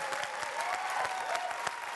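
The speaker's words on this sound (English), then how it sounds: "when you walk out to a standing ovation" A studio audience gives a standing ovation, with dense, steady clapping that fills the room evenly without pause.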